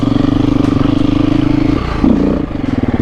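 A 2024 KTM EXC F 350 engine runs loud and close, a steady pulsing idle-like drone with a brief rev rise near the end before settling back.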